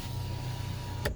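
A car's electric power window motor hums steadily for about a second, ending in a brief thunk as the glass stops.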